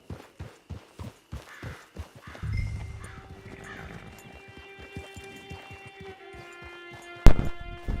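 Horse hooves in Red Dead Redemption 2 Online, an even clip-clop gait that slows and fades, followed by a snorting whinny and a sharp thump near the end, with music-like tones lingering beneath.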